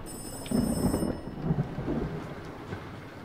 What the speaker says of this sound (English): And a phone ringing.